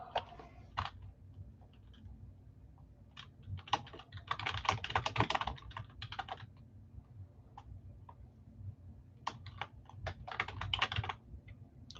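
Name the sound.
typing on a computer keyboard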